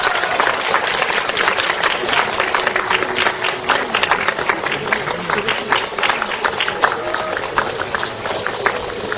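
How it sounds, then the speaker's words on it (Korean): Audience at a film press screening clapping steadily, a dense patter of many hands sustained throughout at moderate loudness, with no speech over it. "네, 박수 주세요."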